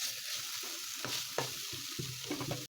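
Cabbage and tomato stir-fry sizzling in a pan, a close, continuous crackle broken by a few scraping stirs and clacks of the spatula before cutting off abruptly.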